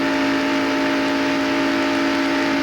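NASCAR stock cars racing at Daytona in the 1995 Pepsi 400 give a steady, loud, droning engine roar with a strong sustained tone, continuous for the whole stretch with no voices.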